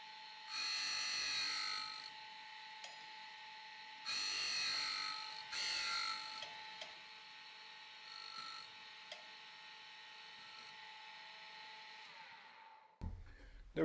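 Grinding wheel grinding secondary relief with 20 degrees of back rake on a slitting saw, several loud high whining bursts of a few seconds each over a constant steady motor hum, ending in a brief clunk.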